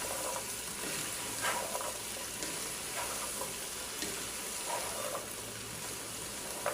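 Yardlong beans, pointed gourd, jackfruit seeds, papaya and potato sizzle in a pan of oil, an even hissing crackle with a few louder bursts where the pieces are stirred, no talking.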